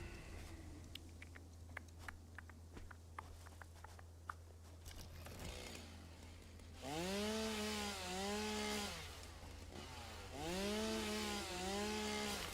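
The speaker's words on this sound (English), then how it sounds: "I do appreciate the change of sound effect for the chainsaw." Chainsaw sound effect in the video game Satisfactory, two revving bursts with swooping rising and falling engine pitch, loud and close, following a stretch of scattered clicks and low hum.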